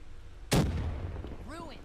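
A grenade goes off in the Call of Duty: Black Ops 3 video game, one sudden loud boom that rumbles and fades over a second, followed by a short burst of a voice.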